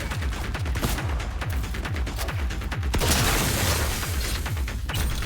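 Shotgun blasts from the video game Cyberpunk 2077 Phantom Liberty fire over and over in quick succession. Dense, loud gunfire and clanking mechanisms run through a continuous din, with no voices.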